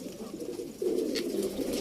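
Prized pet pigeons coo softly in a low, rolling murmur, a faint continuous warble that swells slightly partway through.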